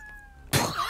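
A cat meows once, loud and close, rising out of a quieter background with a faint tone before it.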